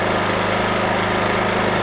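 A NorthStar gas-powered wet steam and hot water pressure washer's engine runs at a steady idle, a close, even mechanical drone with a low hum and no break throughout.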